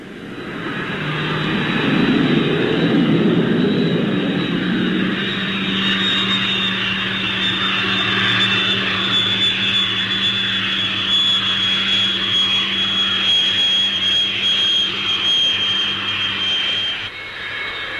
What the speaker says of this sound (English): An increasingly common practice with high-speed aircraft is followed by the Nat, the use of a parachute brake when landing.